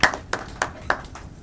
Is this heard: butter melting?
no